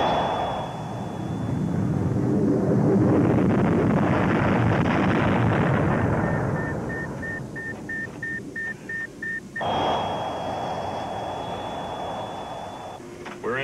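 Spacecraft retro rockets firing in a science-fiction film, a loud rumbling roar that builds and fades over several seconds, followed by electronic beeps and tones with a steady high whine.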